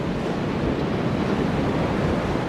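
Ocean waves wash steadily, a constant broad roar of surf with a wind-like hiss and no distinct breaks, filling the space evenly with no voices.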